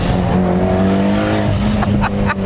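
A Mitsubishi Lancer Evolution X's loud turbocharged engine drones steadily at high revs, then a few short hissing bursts of wastegate chatter break through near the end.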